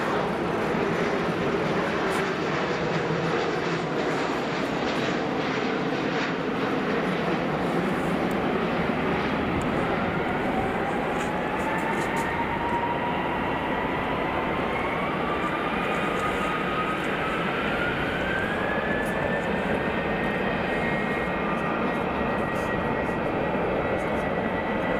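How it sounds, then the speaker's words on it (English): An aircraft coming in overhead at Frankfurt Airport gives a loud, steady jet roar that fills the whole stretch, its tone sliding slowly as it passes, with people talking over it. "He's rolling it and there's an aircraft coming in."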